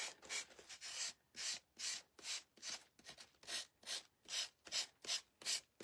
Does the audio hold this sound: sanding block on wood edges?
yes